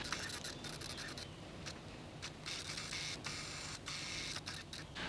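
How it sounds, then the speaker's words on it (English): A Samyang AF 50mm f1.4 lens hunting for focus, its autofocus motor giving a faint, close, scratchy whirring buzz in a string of short bursts with brief gaps, and no voices. "This lens makes a sound when it focuses"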